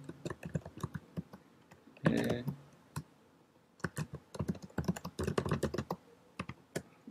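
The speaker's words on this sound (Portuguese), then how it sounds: "A seguir pressiono Enter e ele continuaria digitando comandos aqui." Close typing on a computer keyboard while entering Python commands, with irregular clusters of sharp key clicks, a louder burst of keystrokes near the middle and a dense run toward the end.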